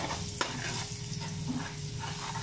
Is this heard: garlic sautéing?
yes